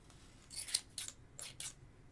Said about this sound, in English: that's why I like the big scissors for this, because I can cut more